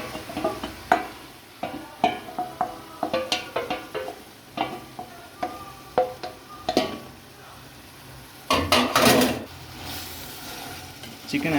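Chicken goes into hot oil for a one-pot chicken pulao, with clattering, scraping stirring strokes and a loud burst of sizzling partway through, heard up close.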